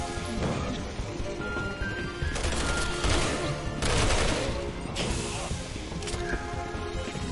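Rapid gunfire from Ada Wong in Resident Evil 6, aboard a submarine, with repeated loud shots and bursts crowding together throughout and a sharp crack standing out now and then.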